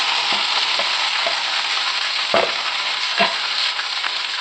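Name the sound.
curry leaves and garlic frying in sesame oil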